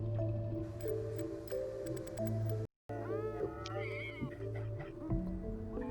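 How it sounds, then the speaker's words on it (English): A cat meows several times in rising, wavering cries over steady background music and tones, fairly close, with a brief dropout midway. "Yeah, there is the kitty."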